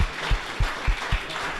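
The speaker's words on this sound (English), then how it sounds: "Can we give you a round of applause?" A small audience claps at a tech-business panel on real estate tokenization, the applause thin and scattered with a few louder claps standing out against the room tone.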